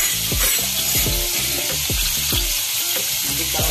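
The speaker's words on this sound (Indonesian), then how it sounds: "kita goreng dia sampai dia keluar minyak guys" Spice paste and bakso meatballs frying in hot oil for a meatball soup broth, a loud continuous close sizzle with repeated stirring scrapes and clanks, no talk.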